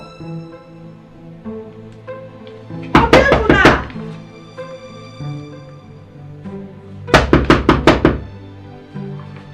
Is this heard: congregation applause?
no